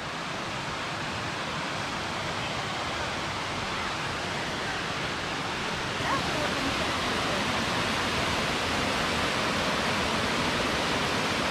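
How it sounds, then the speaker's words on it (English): Indian Creek Falls in the Great Smoky Mountains pours in a steady, broadband rush of falling water that stays constant and fairly close throughout, with no talk over it. "Indian Creek Falls, right there."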